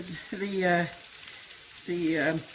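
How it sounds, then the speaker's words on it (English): Onions and peppers sizzle in a pan on a stove, a steady soft frying hiss running under two short bursts of voice. "We have the onions cooking and the peppers cooking well."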